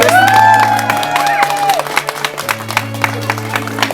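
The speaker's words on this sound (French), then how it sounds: "On peut applaudir." Wedding guests at a religious ceremony for a Côte d'Ivoire and Congo couple clap and cheer, with whoops over a sustained musical tone at first. Sharp individual claps follow as the applause thins out.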